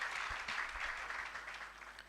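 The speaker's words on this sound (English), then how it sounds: "Another hand clap for Dr. Prosy, please." An audience at a conference forum on child and adolescent global health gives a short round of applause, a steady dense patter of hand claps heard briefly at moderate distance.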